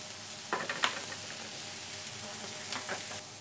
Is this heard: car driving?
no